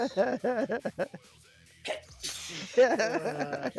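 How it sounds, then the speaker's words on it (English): A sudden, forceful sneeze bursts out between stretches of a person talking, loud and close. "Sometimes you can't control a good sneeze."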